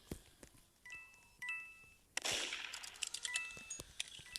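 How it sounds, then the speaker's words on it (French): Pistol gunshots ring out in a Roblox Murder Mystery-style video game: a sharp, loud crack mid-clip, surrounded by small clicks and chimes of game effects, with no talking. "Par contre, il a un pistolet. Et il tire avec en plus."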